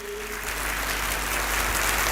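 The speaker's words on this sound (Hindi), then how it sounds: "खड़े होकर के जोरदार ताली चाहिए" Audience applause at a motivational success talk, a broad, steady wash of clapping that holds throughout and swells slightly toward the end, with no voices over it.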